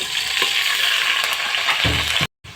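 Loud, steady sizzling of chicken frying in hot oil with fried onions for aloo chicken salan, a dense hiss with occasional pops, briefly cutting out near the end.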